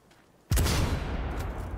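An enemy turret in the video game Cyberpunk 2077 opens fire with a sudden loud burst, followed by sustained rapid gunfire that keeps going to the end.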